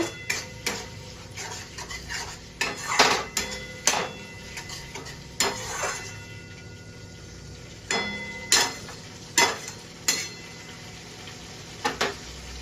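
Metal spatula scraping and clinking against a pan while spice paste for an aloo potol curry is stir-fried, irregular sharp taps and scrapes at close range over a quiet background.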